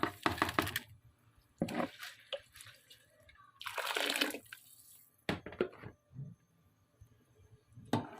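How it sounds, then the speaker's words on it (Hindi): Rice tipped into a pot of boiling water while cooking biryani: sharp bursts of pouring and splashing water, with gurgles and drips between the pours. "सारे चावल डाल दें।"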